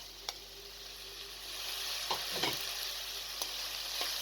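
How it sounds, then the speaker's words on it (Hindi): Minced meat fries in a pan with potato and carrot pieces for keema macaroni. A faint, steady hiss swells slightly midway, broken by a few soft stirring knocks, quiet and without talk. "आलू और गाजर डालकर भी आपने 2 से 3 मिनट तक इसको अच्छी तरीके से फ्राई कर लेना है"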